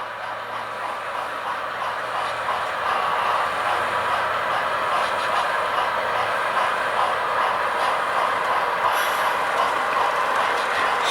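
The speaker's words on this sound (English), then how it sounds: "The Alco's coming into the yard now." A model Alco locomotive rolls slowly into the yard of the Great Northern DownUnder layout, giving a continuous mechanical rumble with faint clicking from the wheels and gears, with no talk.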